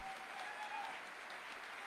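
Enthusiastic crowd applause in a hall at a large business summit: a broad, even rush of clapping from many hands, sustained and fairly distant, with no voice over it.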